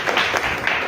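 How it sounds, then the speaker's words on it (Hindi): A church congregation claps at a service in a brief, dense patter of many hands, steady and fairly close for about a second. "इनके लिए ताली बजाओ।"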